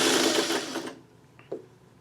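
A sewing machine stitches crumb quilt pieces in a quick whirring burst that stops abruptly partway through, followed by a short faint clack and quiet.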